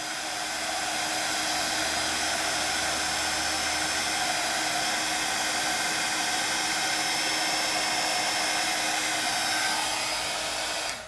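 A handheld heat tool blows steadily on a craft piece to melt embossing powder until it turns shiny, giving a continuous loud whooshing roar with a faint motor whine that runs unbroken and close for the whole stretch.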